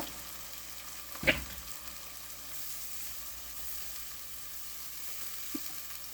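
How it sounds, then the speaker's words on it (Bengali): Onions fry quietly in a pan with a soft, even sizzle throughout, broken by one sharp utensil clack early on and a fainter tap near the end. "দিয়ে দিলাম তাহলে সাথে ভাজা হয়ে যাবে পেঁয়াজ আমি খুব বেশি ভাজবো না"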